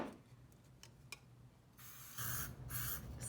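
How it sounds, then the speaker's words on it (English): Hairspray from a can, used while setting a twisted hairstyle, gives two close bursts of airy hissing spray after a few faint ticks and rustles. "Spray it again."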